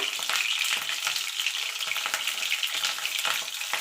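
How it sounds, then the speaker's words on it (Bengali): Spiced bitter gourd fries in a pan over low to medium heat, giving a steady, close sizzle with bursts of crackle and faint scraping as the pieces are moved, with no talking. "এটাকে আমি লো টু মিডিয়ামে রেখে ভালো করে ভেজে নেব।"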